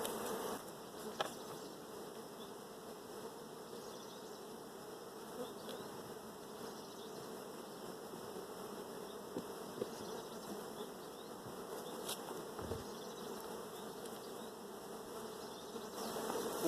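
Honey bees from an open hive during an inspection make a steady, continuous buzz that hums evenly throughout, fairly soft and constant, with no talking.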